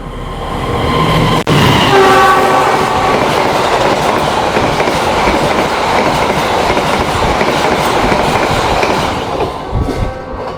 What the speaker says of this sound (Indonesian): itu dia kereta api Brawijaya telah melintas di stasiun Salem